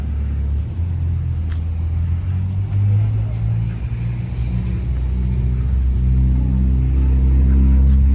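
A car on the road behind, heard as a steady low engine rumble and road noise close by that grows heavier toward the end, with no clear speech.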